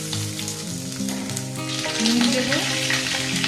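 Eggplant and potato fry together in oil in a pan over medium-low heat, a steady crackling sizzle rising in intensity under a voice talking and background music with sustained tones.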